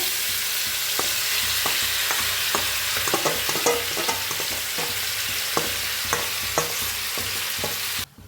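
Paneer roll filling fries in hot oil with a steady loud sizzle, broken by repeated scrapes and clacks of a spoon stirring the pan, with no talking.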